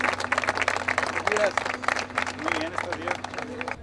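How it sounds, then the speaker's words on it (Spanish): A crowd behind a security fence claps for the state governor, a brief patchy burst of applause mixed with voices and speech nearby. "la gente desde la valla de seguridad ofreció aplausos al mandatario en reconocimiento a su labor"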